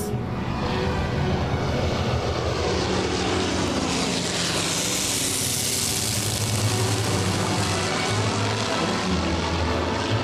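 A WWII fighter aircraft's propeller engine roars in flight, loud and continuous for ten seconds, swelling in intensity midway as it passes close.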